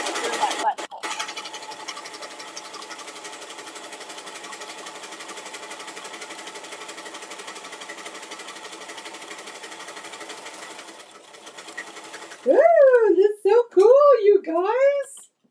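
A sewing machine stitching twice around a seam, a long steady mechanical whir at moderate level that stops near twelve seconds, followed by loud talking.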